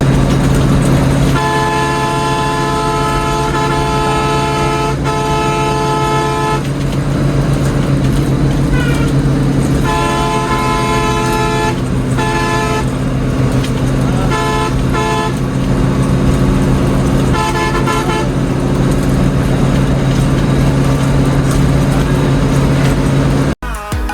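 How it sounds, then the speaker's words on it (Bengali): A Hino 1J bus on the Dhaka–Chittagong highway drones with a steady engine roar. Tonal horn-like blasts sound repeatedly throughout the ride, loud and continuous inside the moving vehicle. "হিনোয়েকো 1J বাসের অরিজিনাল ইঞ্জিন সাউন্ডের গর্জনটা একটু"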